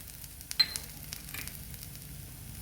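Spiced kurdai bhaji gets stirred in a pan, with soft, faint sizzling and a few light scraping clicks of the spoon, close by and without talk.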